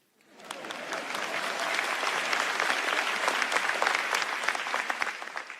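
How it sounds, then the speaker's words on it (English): Applause from a large keynote audience at an NVIDIA event in Taiwan swells in quickly and holds as dense, steady clapping, fairly distant and without voices. "It's okay to clap."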